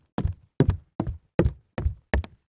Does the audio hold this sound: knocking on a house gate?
yes